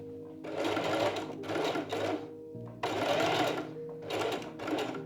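A sewing machine sews a gathered sleeve, its motor whirring in several close, fairly quiet runs with brief slowdowns between them and no talk.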